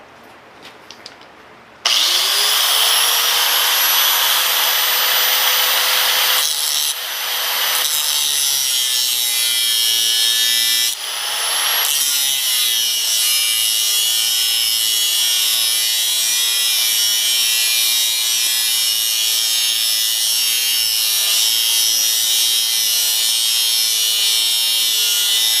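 A grinding wheel cuts steadily and loudly for over twenty seconds after a short quiet start, the high whine shifting in pitch a couple of times as the cut changes.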